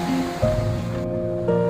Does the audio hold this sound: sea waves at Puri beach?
yes